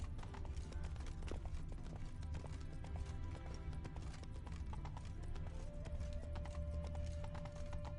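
Roach, the horse in The Witcher video game, gallops with rapid, steady clip-clop hoofbeats over a low rumbling game soundtrack, while a faint tone sustains near the end.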